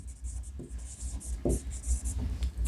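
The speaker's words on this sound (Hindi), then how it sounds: "मैं यहां लिख दे रहा हूं" Handwriting on a surface during an English lesson, with a few short scratchy strokes spaced across a couple of seconds over a steady low hum, without speech.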